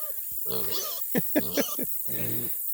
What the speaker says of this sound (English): Awful loud noise, such a little pig.